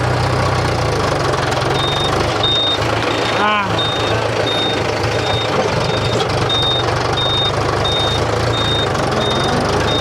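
A tractor engine runs steadily with a loud, continuous low rumble, and a high, evenly spaced beeping repeats over it throughout.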